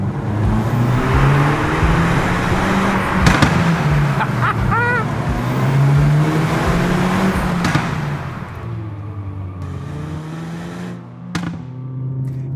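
A Hyundai i30 Fastback N on the Col de Turini mountain road revs hard while driving, its engine note climbing and falling through repeated gear changes, with sharp exhaust cracks and a quieter coasting stretch near the end.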